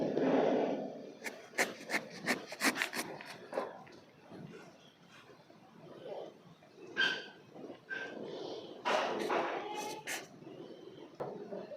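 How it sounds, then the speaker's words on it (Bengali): A knife cuts through a lemon with a series of short, close scraping and rasping strokes, separated by brief pauses and a few small handling knocks. "তো লেবুটা এখন আমি কেটে নিচ্ছি।"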